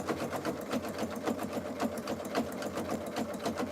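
A sewing machine stitches a jelly roll rug at speed, its needle producing a fast, even pulsing chatter up close, alone without speech.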